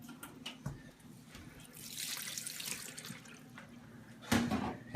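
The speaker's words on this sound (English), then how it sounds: "Let's give it just a little more water." Water is poured into a CanCooker already loaded with venison shoulder, a soft trickling stream that swells in the middle and ends with a brief splash, close and fairly quiet with no talking.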